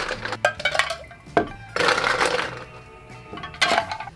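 Ice cubes dropped into a glass or blender for a vintage 1960 Las Vegas Aku-Aku Lapu tiki drink: several sharp clinks and clatters in irregular bursts, with quieter gaps between, close and fairly loud, no voices.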